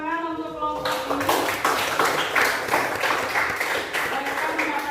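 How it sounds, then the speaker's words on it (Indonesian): A school class in Indonesia claps for a group of students, a light patter of applause rising after a voice stops talking and running on steadily for a few seconds. "Beri tepuk tangan untuk kelompok ini."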